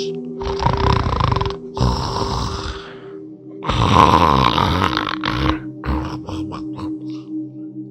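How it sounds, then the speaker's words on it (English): Heavy, rasping snores come in long, loud bursts with short pauses between, close and droning over a low steady hum. "the reply to my questions was her loud snores"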